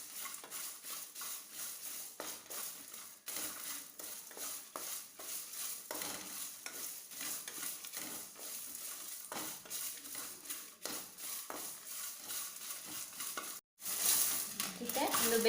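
Masala for chicken ghee roast being lightly fried and stirred, a low continuous sizzle broken by repeated scraping strokes of a spoon in the pan, close and quiet, with a louder clatter near the end.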